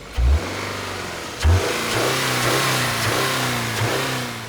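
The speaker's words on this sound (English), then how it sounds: "the boxer engine does have a somewhat gruff" A gruff flat Subaru 2-litre boxer engine in a Crosstrek revs up close, with two sharp blips of throttle over a steady rumbling idle, no talking.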